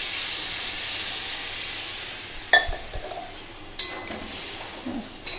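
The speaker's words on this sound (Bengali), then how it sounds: "তো এবার আমি এই যে অল্প জল দিয়ে দিচ্ছি" Water splashing into a hot pan, setting off hissing and steam after a few utensil clinks, with scattered scrapes and knocks against a faint background hiss.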